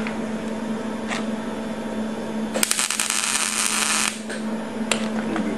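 Tack welds on metal for a farm tanker build sound as a steady electrical hum with short crackling bursts, one longer spitting crackle in the middle and brief sharp pops around it, with no talking.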